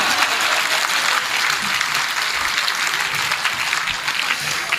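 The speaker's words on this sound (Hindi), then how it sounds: "ताली अब भी नहीं बजा रहे भाई साहब आप" Sustained audience applause at a Hindi comedy poetry show (hasya kavi sammelan), steady dense clapping from a large crowd filling the whole stretch with no talk over it.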